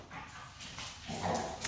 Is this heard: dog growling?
yes